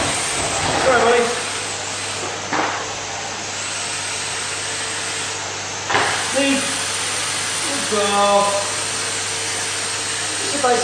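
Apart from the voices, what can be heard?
vacuum cleaner (hoover) running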